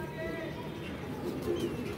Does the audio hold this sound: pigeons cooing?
yes